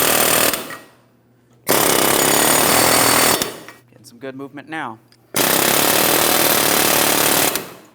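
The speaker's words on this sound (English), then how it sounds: "I have my air hammer bit." A pneumatic air hammer rattles loudly in three long bursts while removing a front wheel bearing and hub on a 2007-2014 GMC Sierra 2500 HD, separated by pauses; someone speaks briefly between the second and third bursts.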